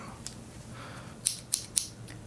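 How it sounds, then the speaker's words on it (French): Scissors snip three times in quick succession, crisp and close, each cut a sharp metallic click over a quiet room background. "Ciseaux."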